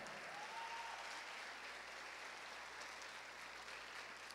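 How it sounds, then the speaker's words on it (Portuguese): A church congregation applauds steadily and evenly for several seconds, a dense wash of clapping heard from within the crowd with no clear voices on top. "Pode aplaudir a Jesus"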